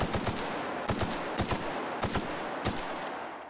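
Gunfire from a smaller-bullet gun in The Outer Worlds, fired in about five quick bursts of sharp, snappy shots with short pauses between them, loud and close throughout.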